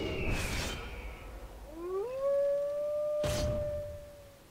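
A Howl ability fires in a World of Warcraft pet battle, a rising, wavering tonal cry that swells and holds for a couple of seconds, framed by short bursts of game noise before and after.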